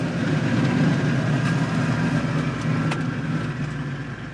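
A 4WD vehicle in low range first gear with diff locks engaged, crawling slowly over rough off-road terrain in New Zealand; a steady, low engine drone runs close throughout with faint clunks from the drivetrain.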